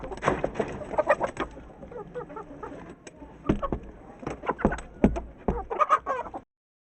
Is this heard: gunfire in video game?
no